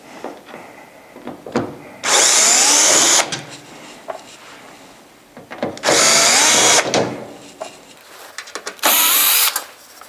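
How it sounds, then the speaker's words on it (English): A cordless drill with a number 2 Phillips bit backs screws out of a Santa Fe RX dehumidifier cabinet: three loud, close whirring bursts of about a second each, separated by quieter handling noise. "Just to speed things up, I'm going to use a drill."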